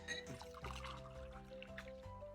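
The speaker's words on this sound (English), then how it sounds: "let's go ahead and pour yours into mine" A drink poured from one cup into another, a steady close trickle of liquid running for a couple of seconds beneath a faint musical background.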